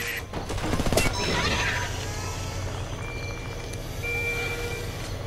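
Gunfire in the video game Homefront, with a loud burst of shots early on and then continued combat noise and rumble through the rest.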